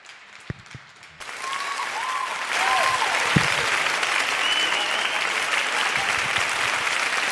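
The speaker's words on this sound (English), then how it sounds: "you are clapping for me" Sustained audience applause fills a hall at a Nigerian leadership event, rising after a brief quieter start into steady, dense clapping with a few whistles and cheers over it.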